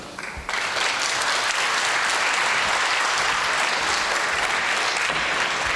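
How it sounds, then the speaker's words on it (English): Sustained applause from an audience at the opening ceremony of the CONIFA Women's World Football Cup 2024 in Glasshuset, Bodø, a dense steady clatter of hands filling the hall after a brief softer start. "A big hand of applause again to Jarna."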